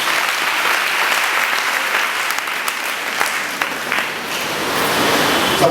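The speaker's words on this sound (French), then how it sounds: "Tu peux acclamer le Seigneur Jésus" A church congregation at a Sunday service applauds steadily, a loud, sustained wash of clapping with some cheering throughout.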